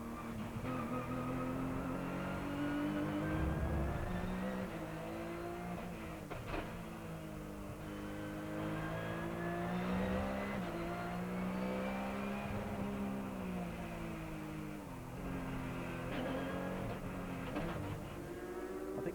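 A superkart heard from onboard while lapping Morgan Park Raceway, its engine a continuous high whine rising and falling in pitch through gear changes and corners, loud and unbroken, with no speech.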